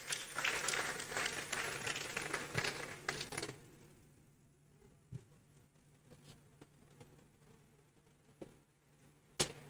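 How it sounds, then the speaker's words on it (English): An awards-ceremony audience gives a brisk round of applause that lasts about four seconds, then drops off to near quiet broken by a few isolated claps or knocks. "A round of applause for Mr. Shags."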